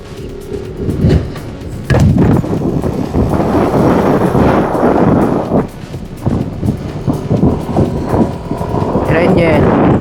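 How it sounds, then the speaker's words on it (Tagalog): Strong wind buffets the microphone throughout an outdoor women's open elite breakaway race, a low roaring rush under excited, near-constant commentary and shouting voices. "Malakas ang hangin eh."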